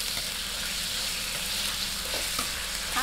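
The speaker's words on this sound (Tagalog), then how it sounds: "Lagay na po natin itong ating chicken. Ayan, ating lang pong gisagisahin." Chicken sautés in a pan, giving a steady, close sizzle with faint stirring scrapes throughout.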